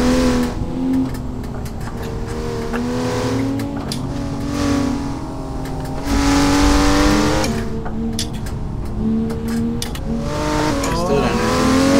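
A Porsche GT2 RS engine roars steadily under hard acceleration in a drag race, its loud rising and falling drone continuous and close, with a voice talking over it.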